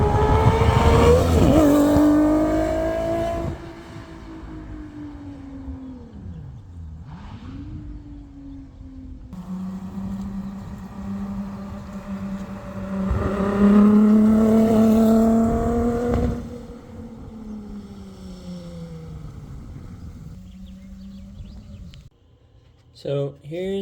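A Volkswagen Beetle fitted with an Evinrude 2.6-liter two-stroke V6 runs and revs, its steady harmonic drone rising and falling through repeated throttle swells, loud and close, with a brief sharp noise near the end.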